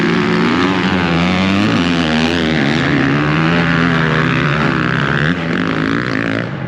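Several motocross bikes buzz and whine at once on a track, their revving pitch rising and falling continuously as they ride nearby.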